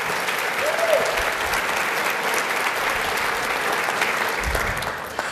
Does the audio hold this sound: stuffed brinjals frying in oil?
no